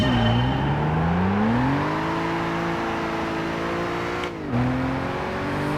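A race car engine in the video game Gran Turismo 5 revs steadily, its pitch climbing and holding high, with a brief dip near the end before it picks up again.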